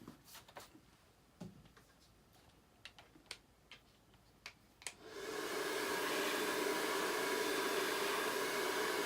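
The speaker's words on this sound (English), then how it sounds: "Let's hit it with a dryer." A few scattered light clicks and taps, then a hair dryer switches on and blows with a steady, loud whooshing roar that continues to the end.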